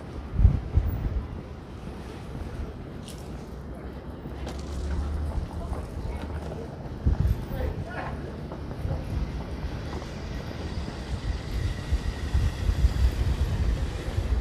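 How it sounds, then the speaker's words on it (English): Cold winter wind buffets the microphone on a downtown street in Jersey City, with steady low rumbling gusts and some traffic noise, as a voice talks over it. "it is freezing out and windy"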